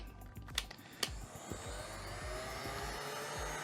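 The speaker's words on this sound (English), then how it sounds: "this time I am heating the plastic quite aggressively" A hot-air gun blows a steady, rushing stream onto a thin strip of thermoplastic for a mallet finger splint, with a couple of sharp clicks as it starts, then a constant loud whoosh close by.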